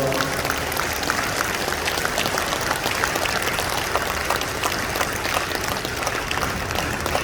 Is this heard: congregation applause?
yes